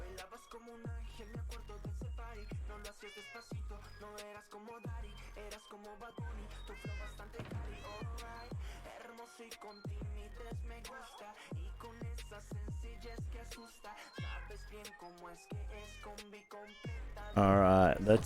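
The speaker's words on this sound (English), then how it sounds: "That's just a little cat nap because there's cats around." Cats in the Minecraft video game meow over and over, short rising-and-falling calls in a steady, closely spaced series, clear and fairly quiet, ending with a brief brighter sound.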